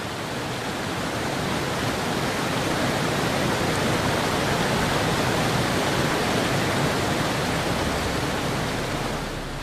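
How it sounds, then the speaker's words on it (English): Mountain cascades of monsoon water plunge down steep slopes in India, making a dense, unbroken roar of rushing water that stays loud and even throughout, with no voices. "As they plunge down the mountain slopes, the cascades grow ever larger."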